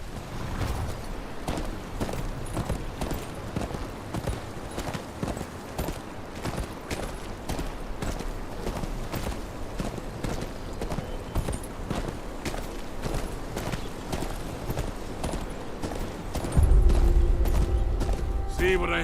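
Steady clip-clop of horse hooves on a road in the Game of Thrones Kingsroad video game, a continuous even trot lasting throughout, with a heavier thud and rumble near the end.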